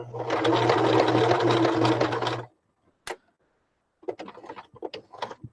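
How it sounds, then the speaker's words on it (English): A sewing machine stitches lace onto a fabric clutch in a fast, steady whirring run for about two and a half seconds, then stops, followed by scattered light clicks and handling taps. "And then just keep on sewing. Back stitch a bit there."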